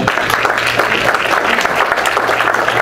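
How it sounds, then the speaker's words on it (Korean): An audience applauding at a commemoration ceremony in an indoor hall, a dense, loud wash of clapping that carries on steadily for a few seconds with a low hum underneath. "예, 한번 박수로 맞아주시기 바랍니다."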